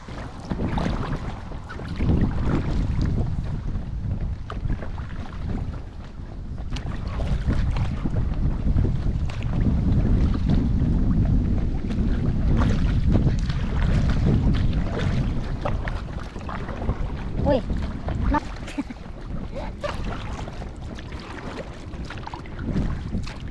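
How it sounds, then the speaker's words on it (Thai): Kayak paddled on open water with a strong wind, steady gusty wind rumble buffeting the microphone throughout with faint water splashes, no talking. "วันนี้เราจะไปล่องเรือคายักกันค่ะ"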